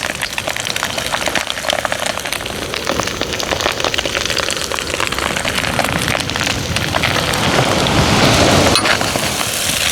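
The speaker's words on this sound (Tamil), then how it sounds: "மலை சாரல் எப்படி இருக்கு பாருங்க" Steady hiss of drizzle falling on surfaces at a seaside outdoor cooking spot in the hills, loud and continuous for the whole stretch with no voices.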